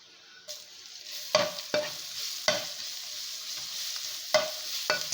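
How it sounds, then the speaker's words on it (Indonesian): Garlic, onion and curly red chili sauté in margarine in a pan, giving a soft steady sizzle broken by several sharp scrapes and knocks of a spatula stirring the mixture. "tumis bawang putih, bawang bombay dan juga cabai merah keritingnya. Tumis semuanya hingga matang dan juga harum ya."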